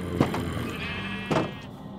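A sheep bleating in the game Minecraft, two short nasal bleats about a second apart, close and fairly quiet, with no talking.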